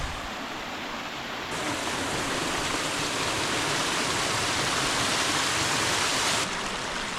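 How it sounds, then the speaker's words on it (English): Water cascades down sandstone where three creeks meet in Indiana's Hoosier National Forest, making a steady, full rushing roar that holds at an even loudness throughout with no voices. "Cascade down the sandstone."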